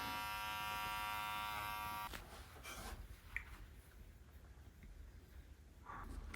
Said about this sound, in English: right here I'm just using the rug carver to shave off these little bits